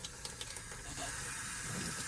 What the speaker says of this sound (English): I'll keep the lid closed, the bottom lid closed here just for now so that the water can run in there